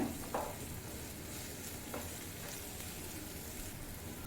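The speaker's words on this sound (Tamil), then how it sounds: "வெங்காயத்தை கலர் சேஞ்ச் ஆகிற வரைக்கும் நல்லா வதக்கிக்கோங்க" Finely chopped onion sautéing in a pan for a capsicum masala, a soft, steady low sizzle with a couple of faint stirring scrapes, fairly quiet and uninterrupted.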